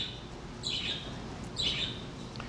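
Pet birds chirp indoors in a flower shop workspace, two bright bursts of high tweets about a second apart over a low, steady background hum.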